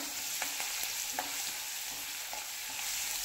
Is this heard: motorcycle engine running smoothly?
no